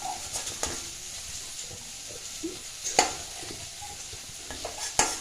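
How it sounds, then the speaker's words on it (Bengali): Potatoes frying with spices in a pan, stirred with a steady soft sizzle and scraping, broken by a few sharp spatula clicks against the pan. "তো মশলার সাথে আলুগুলো ভাজে নিয়েছি।"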